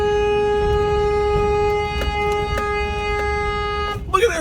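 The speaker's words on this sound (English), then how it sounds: "I'm going out here and honk the horn and scare them" A car horn sounds one long, steady, loud blast near power lines where birds are perched. The horn cuts off near the end, followed by a brief burst of other noise.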